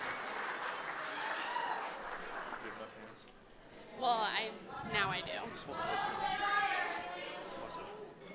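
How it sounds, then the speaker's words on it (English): A crowd claps at a wedding celebration, steady applause under an announcer's amplified voice, then cheers and whoops rising in bursts as the clapping continues. "Please, a huge round of applause for Brittany Finch, everybody."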